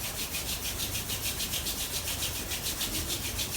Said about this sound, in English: Bring your palms together and rub them to create some friction.